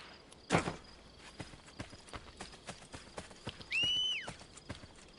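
Horse hooves clip-clop in a steady rhythm, drawing nearer, followed by a loud whinny in the Assassin's Creed Brotherhood video game, with a sharp thud at the start.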